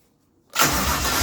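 A 1JZ engine in a Nova fires up after a brief near-silence, catching abruptly and settling into a steady, close running rumble.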